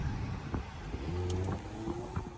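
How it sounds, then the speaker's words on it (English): A 2016 Scion tC's exhaust hums with a small, light tone while accelerating, its rising engine note fairly faint beneath road and wind noise. "The exhaust sounds good on this car too. It's got a nice little tone."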